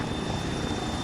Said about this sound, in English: So I guess these helicopters are towing assets back to their base.